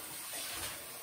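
Salad lettuce being washed under running tap water, a steady close rush of flowing water with no talk.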